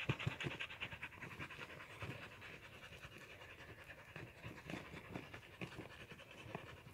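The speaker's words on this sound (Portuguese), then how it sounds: "O cachorro tá mordendo?" A hunting dog pants rapidly and steadily close by during an armadillo hunt, quiet rhythmic breaths continuing throughout.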